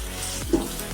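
Garlic ginger paste frying in a hot pan for chicken pulao, a soft steady sizzle with two brief stirring scrapes near the middle and end, close and fairly quiet.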